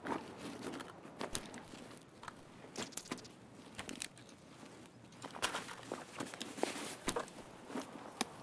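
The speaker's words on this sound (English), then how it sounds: "the birds keep making me jump" Birds flutter and call in Escape from Tarkov. Faint, scattered flaps, coos and soft footstep-like taps sound sporadically over a quiet outdoor ambience.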